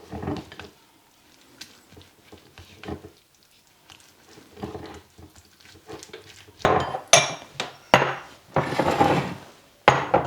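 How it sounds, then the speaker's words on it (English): A spoon scrapes and clinks in a bowl, stirring fresh chopped mint into a lamb kofta mixture. It begins as soft, sparse knocks, then turns into louder, busy clattering strokes in the second half. "I'm going to give that a stir"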